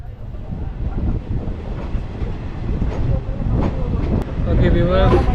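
Kollam Express (16101) pulls out of Chennai Egmore station, a steady low rumble of rolling railcars with faint clanks and squeals heard from on board, with a voice talking over it.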